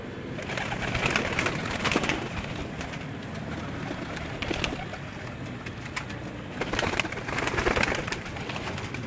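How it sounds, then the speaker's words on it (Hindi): Pigeons coo steadily in a breeder's loft of young pigeons, Mirpur, Azad Kashmir, with soft overlapping calls and occasional louder bursts close by, no talking. "अब आप ये जो बेबी पिजन देख रहे हैं ये काफ़ी तादाद में है"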